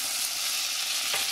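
Mustard sauce sizzling in a frying pan while being stirred quickly, a steady close hiss of frying with faint scraping, no voices.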